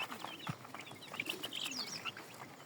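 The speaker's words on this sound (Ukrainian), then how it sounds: "Курчатка." Faint high peeping and chirps from chicks, scattered and soft against a quiet background hiss.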